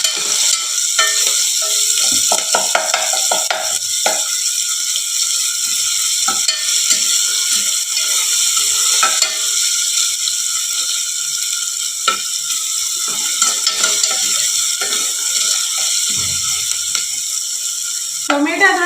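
Masala with tomato paste sizzles steadily in a frying pan while a spoon stirs and scrapes through it, the frying hiss running continuously and close with irregular scraping strokes on top.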